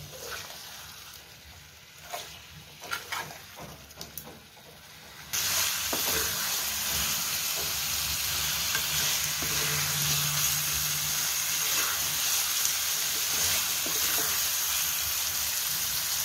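Chicken liver sizzling loudly in a hot pan with chili powder stirred in, a steady hiss of frying that swells after a few seconds of quieter crackle and clatter, close and continuous with no talk.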